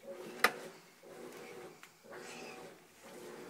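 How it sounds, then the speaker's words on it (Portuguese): A diaper drawer is pulled open and emptied, with one sharp wooden knock and a few soft thuds and rustles of items being taken out, close and quiet. "A Heloísa arrumando a gaveta de fralda. Tirando do armário."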